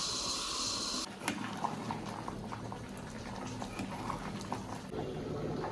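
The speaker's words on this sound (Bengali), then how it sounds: "এই দেখো বন্ধুরা আমার ডাল হচ্ছে এখনও কমপ্লিট হয়নি" Mung and chickpea dal bubbling in a pot, a steady dense simmer with soft popping bursts throughout, close and moderately loud with no voices.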